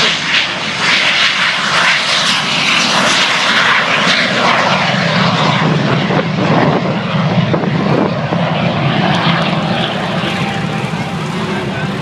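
An air show airplane departs overhead, its loud engine roaring continuously and close, with a public-address announcer talking over it.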